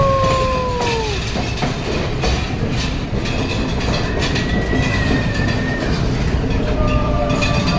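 A train rolls through a short dark tunnel in Sri Lanka, a loud continuous rumble of wheels and carriages with rhythmic clatter and a few thin squeals rising above it.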